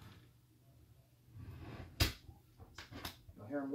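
Doors of a rolling DJ workstation case swing shut, giving a sharp close thud followed by a couple of lighter knocks and latching clicks, near and fairly quiet with faint talk at the end.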